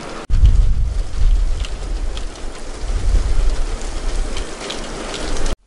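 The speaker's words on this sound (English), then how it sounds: "It's the first time we've been on the boat in big rain." Big rain drums on a canal boat roof and the canal water, a loud, close, continuous patter with heavier low thuds rising and falling.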